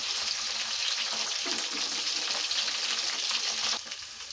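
Sliced onions and green chillies hitting hot oil with dried prawns for a gongura prawn curry, giving a dense, bright, continuous sizzle up close that eases slightly just before it ends; no speech.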